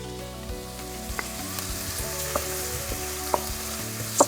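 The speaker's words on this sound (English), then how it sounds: "Next thing going in is my garlic, and then ginger" Garlic and ginger go into a pan of frying onions for a South African curry, giving a steady soft sizzle with occasional light scrapes and clicks of stirring, close and unaccompanied by voices.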